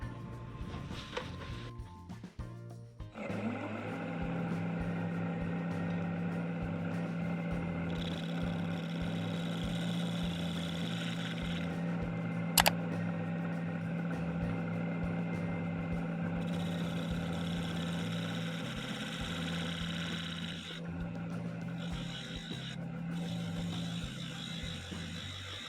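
A bowl gouge cuts a small maple piece on a lathe, a steady close whirring drone with a tonal hum under it and one sharp click midway, with no talking.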